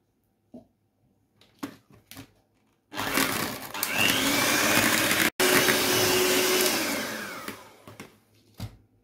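An electric mixer whirs loudly and steadily for about five seconds, whisking egg yolks, sugar, oil and milk in a bowl, with a brief cutout midway and a few light knocks before and after.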